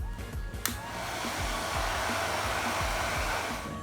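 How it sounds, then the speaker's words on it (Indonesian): A hair dryer blows steadily to dry purple-cabbage litmus paper strips, a continuous airy whoosh with a low motor hum, switched on with a click near the start and running on alone without talk. "kemudian kita keringkan dengan hair dryer."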